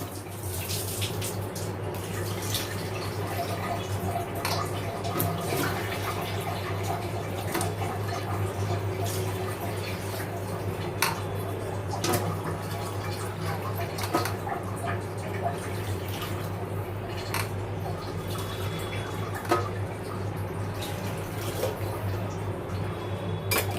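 Water runs steadily into a cooking pot for soup, a continuous splashing stream with small drips and clinks on top, held at one level for a long stretch.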